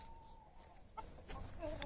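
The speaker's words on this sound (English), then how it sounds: "You see the chickens?" Soft, faint clucking from chickens close by at a chicken tractor, a few short throaty calls over quiet background noise.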